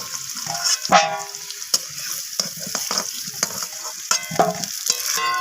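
Potato pieces fry in hot oil, with a steady sizzle, quick spattering pops and the scrape of a spatula stirring them close up.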